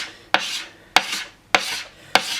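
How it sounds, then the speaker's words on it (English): A bladed Bako paint scraper is drawn lightly across a repaired ski base in four evenly spaced strokes, each a close, sharp rasping scrape that fades quickly. "a Bako scraper, which is a paint scraper with a blade, and we'll simply just again use that very lightly"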